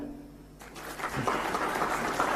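Scattered clapping from an audience at a technology workshop in Vijayawada swells into brief, moderate applause after a quiet moment.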